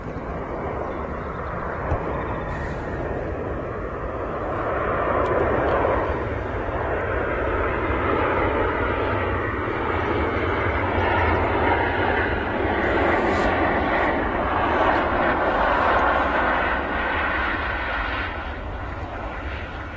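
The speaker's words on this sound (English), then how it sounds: "There you go, the Ryanair is now down." A Ryanair airliner arrives and lands at Manchester Airport, its jet engines building to a broad, loud roar. The roar stays close and steady, then fades slightly near the end.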